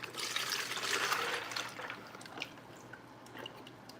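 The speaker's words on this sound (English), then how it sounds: "I'm just gonna take the oils and we're gonna pour it into this bucket right here." Melted soap-making oils pour into a bucket with a soft, splashy liquid rush that tapers into faint trickles and drips, fairly quiet and with no talking.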